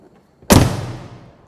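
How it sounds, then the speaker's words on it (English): A heavy Mercedes G63 AMG door slams shut with a single loud, solid thud, followed by a long reverberant decay echoing through a parking garage, with no voices. "And that noise you heard when you shut the door"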